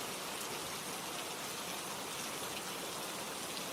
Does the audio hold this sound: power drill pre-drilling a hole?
no